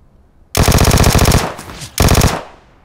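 A Vector submachine gun in PUBG Mobile fires on the Miramar map: a loud, close, very rapid full-auto burst of about a second, a short pause, then a second shorter burst.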